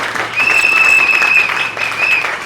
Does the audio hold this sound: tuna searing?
no